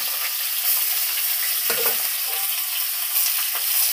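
Curd hits a hot pan of Bihari-style jackfruit curry with a loud, steady sizzle and frying hiss, broken by a few spoon scrapes as it is stirred, with no talking.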